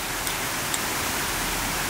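Steady rain pours down in a dense, even hiss, close and constant throughout with no voices.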